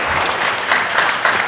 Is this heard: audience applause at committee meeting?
yes